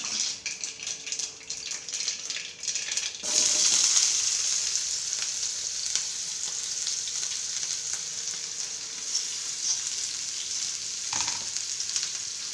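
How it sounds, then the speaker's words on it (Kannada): Mustard seeds, cumin and tomato sizzle in hot oil for a tempering, a steady close hiss with bursts of crackle that swells after a few seconds and keeps going without talk. "ಎಲ್ಲ ಹಾಕಿ ಅದನ್ನ ಒಗ್ಗರಣೆಯಾಗಿ ರೆಡಿ ಮಾಡ್ಕೊಳ್ಳೋದು."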